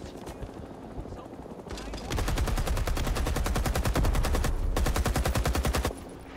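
An enemy gunner's machine gun in Rising Storm 2: Vietnam fires a long, dense, rapid burst of evenly spaced shots for about four seconds, loud and sustained, before cutting back to quieter battlefield noise.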